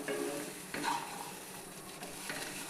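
Okra (ladies' finger) frying on a low flame in a pan, a soft continuous sizzle with a few light stirring scrapes, fairly quiet and close.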